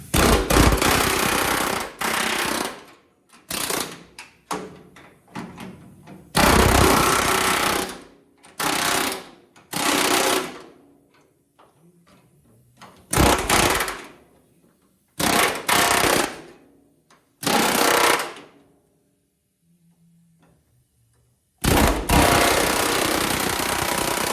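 Spot welds being drilled or ground out of a galvanized metal torque box panel on a car, heard as loud, harsh machine bursts of varying length broken by short silences and fainter tool noises.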